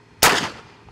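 A Gyrojet rocket pistol fires once with a sharp, loud report, then a short decaying whoosh and rumble fades over the next half second, with no voices.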